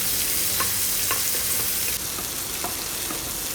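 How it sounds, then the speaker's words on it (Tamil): About ten small shallots, cut lengthwise, sauté in sesame oil in a kadai with a steady close sizzle, while a few light spatula stirs tap and scrape against the pan. "அடுத்து ஒரு 10 சின்ன வெங்காயத்தை நான் நீளமாக கட் பண்ணி வச்சுருக்கிறேன். அதை போட்டுட்டு நல்லா வதக்கி விட்டுக்கோங்க."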